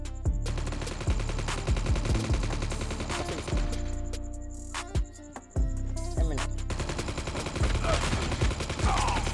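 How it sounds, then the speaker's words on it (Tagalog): Rapid bursts of automatic gunfire and scattered shots ring out in a Call of Duty Mobile battle royale shootout, dense and loud, with brief lulls between volleys. "Nagkabarilan."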